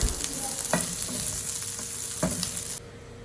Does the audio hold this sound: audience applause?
no